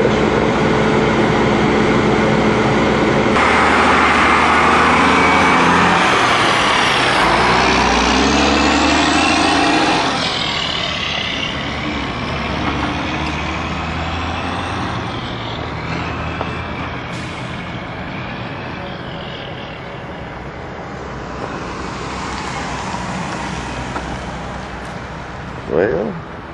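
A dump truck without a tailgate rolls past on a street, a loud heavy rumble with hissing and clanking that swells near and then fades as it moves away.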